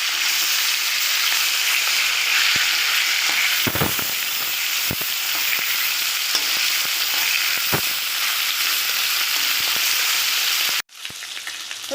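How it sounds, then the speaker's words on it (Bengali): Fish rubbed with salt and turmeric sizzling loudly in hot oil, a continuous close crackle with occasional sharper pops and spits, ending in a brief break before the frying continues. "এবার আমি নুন হলুদ মাখানো মাছগুলো ভেজে নেব।"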